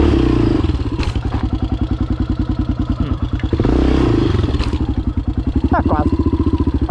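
A 1991 Yamaha XT600 motorcycle prepared for off-road riding runs nearby with a steady, loud single-cylinder thumping idle that swells briefly twice, with a few clicks and clatters over it.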